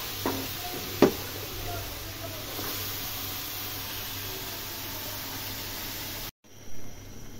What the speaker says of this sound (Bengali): এখন আমি শাকগুলো দিয়ে দিব